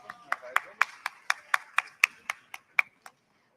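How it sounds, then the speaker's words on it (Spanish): Audience at a program results presentation clapping together in a steady unison rhythm, about a dozen sharp claps spaced evenly before stopping, with a faint voiced tone beneath. "un fuerte aplauso para ellos"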